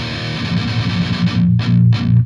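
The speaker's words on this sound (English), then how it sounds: "that little chugging that you hear in between, right here" A short burst of chugging, palm-muted distorted electric guitar from a song, near the last chorus, fast and dense, ending in a few punchy separate hits.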